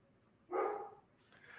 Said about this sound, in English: don't mind my dog who's barking in the background, probably at the mailman or something